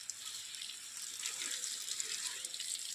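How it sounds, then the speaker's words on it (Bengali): Plants inside a green shade house being watered, with a faint, steady hiss of water pouring and splashing close by, continuing without pause for a few seconds. "গাছে জল দিতে ভালোই লাগে"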